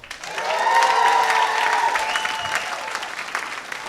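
Audience at a comedy show in Modesto claps and cheers in a full, steady wave of applause that swells quickly and then slowly thins out.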